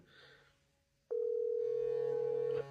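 A telephone dial tone starts abruptly after a faint low hum and holds as one loud, steady tone for about a second and a half before cutting off.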